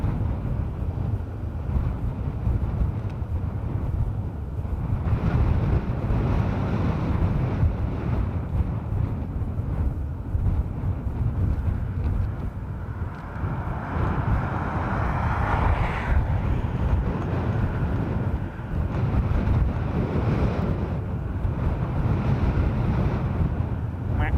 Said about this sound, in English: doing my best to hold the camera steady in the wind